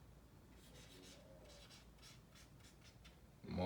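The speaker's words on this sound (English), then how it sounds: "So, I'm gonna write" Handwriting during an arithmetic lesson on multiplication: a faint series of quick scratchy pen strokes in a quiet room, ending with a sudden louder knock.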